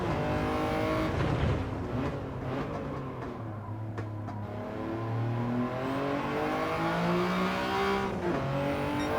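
A Toyota GR Yaris in Gran Turismo 7 on the Tsukuba circuit revs and accelerates out of corners, its engine note climbing and shifting through gears in a continuous, loud drone with faint tire noise.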